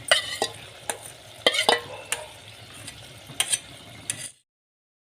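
Finely chopped radish greens are stirred in a cooking pan over a low flame, with a low sizzle and repeated scraping clatters of the spoon against the pan before the sound cuts off, no talk.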